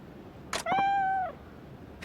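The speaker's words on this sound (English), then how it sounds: "Look at the cat. Look at the kitty." A cat in the video game Like a Dragon: Ishin gives one clear, drawn-out meow with a steady tone, preceded by a short soft chirp, close and alone against a faint background hum.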